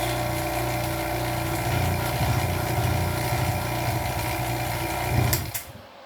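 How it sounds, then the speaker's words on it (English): Vacuum pump on a home freeze dryer running steadily with a constant droning hum and buzz, ending in a short burst and cutoff near the close. "I let that vacuum run for 2 minutes."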